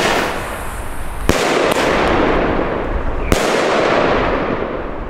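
Firecrackers crackle in a dense, continuous burst of rapid pops, with a couple of sharper bangs standing out, loud and close; consumer New Year's fireworks.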